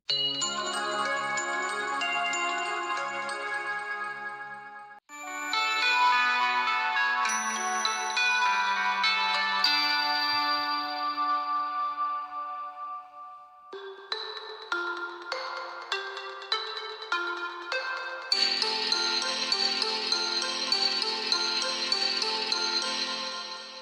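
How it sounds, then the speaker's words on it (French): Nostalgic French middle school bell ringtones play one after another, a series of bright electronic melodies and chimes that switch abruptly every few seconds, each loud and clear with no voices. "Je vais faire défiler des sonneries pleines de nostalgie"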